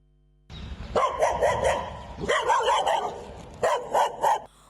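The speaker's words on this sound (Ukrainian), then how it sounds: "Ось таким диким лаєм ця зграя собак нещодавно накинулись на дитину" A pack of stray dogs barks wildly near a residential building, with three loud bursts of overlapping barks and yips separated by brief lulls, close and aggressive, no talk.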